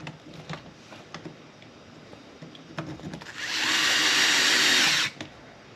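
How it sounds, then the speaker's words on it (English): A DeWalt cordless drill, clutch set at 4, whirs steadily for about a second and a half after a few scattered clicks and knocks, then cuts off abruptly, while building an RC sprint car kit. "my drill's set at 4 and it works with the DeWalt drill"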